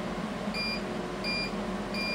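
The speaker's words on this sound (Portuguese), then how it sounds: "cada bip significa um ciclo dado nesse que a gente selecionou aqui" A Galaxy Fiber EVO machine gives three short, evenly spaced high beeps, each marking a cycle, over a constant low hum of the running machine.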